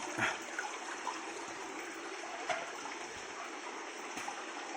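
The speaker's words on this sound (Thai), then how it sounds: "มีเสียงน้ำไหลด้วยนะครับ" Water trickles and flows steadily through a cave with a hollow, echoing quality, punctuated by a few faint drips; no voices.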